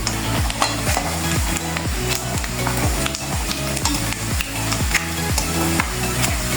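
Garlic, panch phoron and whole cumin sizzle loudly in oil for olive pickle. The crackling hiss runs steadily over a repeating low, rhythmic thumping pattern, and no one speaks.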